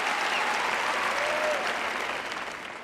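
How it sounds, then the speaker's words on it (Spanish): A large church congregation applauding in a big hall with thousands present, a broad sustained roar of clapping that holds steady and then gradually fades toward the end. "Les aplaudo."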